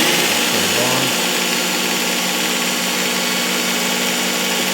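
A Ken Onion Mk2 blade grinder runs steadily while sharpening a Dexter Russell meat cleaver, a loud continuous motor whine and abrasive belt hiss with a brief low shift near the start.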